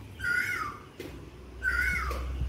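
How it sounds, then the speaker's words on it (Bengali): A cuckoo gives two clear, whistled calls about a second apart, each swooping in pitch, heard alone against a quiet outdoor background. "কি সুন্দর কোকিল ডাকছে।"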